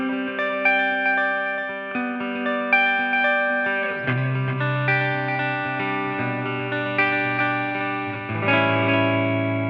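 Electric guitar through a Line 6 Catalyst amp, sustained chords and ringing notes strummed repeatedly with a spacious, shimmering effect tail, played alone with no talking.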